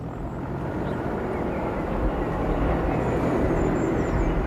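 NASA Pathfinder solar-powered aircraft in flight, a steady broad rumbling drone with a low hum, fairly loud and constant, slowly growing a little stronger.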